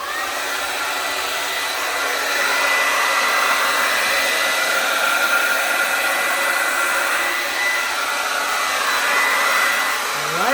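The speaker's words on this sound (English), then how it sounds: "The dryer is set on high and cool." A hair dryer runs on high with the cool setting during acrylic pour painting, a steady, loud whooshing whir that holds for about ten seconds with slight shifts in pitch as it moves.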